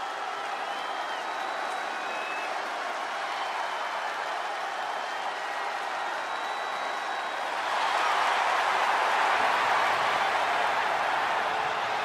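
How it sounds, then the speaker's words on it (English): Arena crowd ovation at a Smackdown match in the WWE 2K23 video game: a wide, steady roar of cheering and clapping that swells louder partway through, heard from a distance. "Listen to this ovation."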